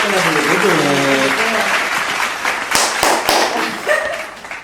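A studio audience at a comedy debate show applauds to welcome guests, with a voice talking over the opening, then scattered sharp claps and a few loud slaps, tapering off.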